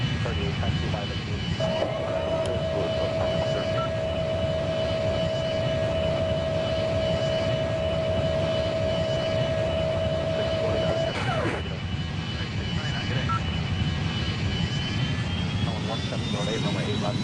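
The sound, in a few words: Southwest airliner jet engines taxiing in video game Airline Commander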